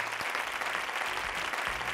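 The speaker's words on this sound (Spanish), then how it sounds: "el aplauso para Carolina" A studio audience on a Spanish TV quiz show, Cógeme si puedes, breaks into steady applause, a brief wash of clapping that holds at an even level throughout.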